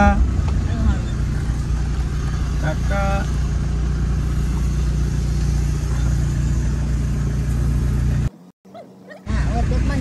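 A car creeps along a narrow village lane near Satara, its engine a low steady rumble beneath people talking throughout, with a brief cut to silence near the end.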